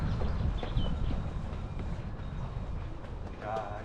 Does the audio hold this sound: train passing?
yes